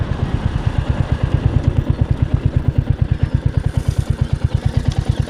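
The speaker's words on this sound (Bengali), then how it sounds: "এই বাইকের সাউন্ডটা আমি আপনাদেরকে একটু শোনাই" Close, loud Royal Enfield Hunter 350 motorcycle idles with a steady, evenly pulsing thump, each firing beat distinct and regular throughout, with no voices.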